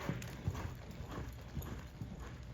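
A horse loping off in a straight line, its hoofbeats a steady three-beat clip-clop that stays moderately close and fairly quiet. No one speaks.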